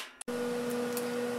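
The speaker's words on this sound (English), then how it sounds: "Last thing you guys want to hear is the fan motor on that thing." A welder's cooling fan motor hums steadily right after a brief click, holding a constant whine close to the microphone with no talk, during work on a racing and off-road mower shifter.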